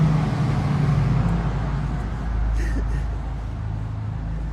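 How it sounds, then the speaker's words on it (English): Cars drive by nearby, giving a steady low road rumble that swells slightly partway through, with no talking. "I hear this car driving and this car driving at the same time as each other"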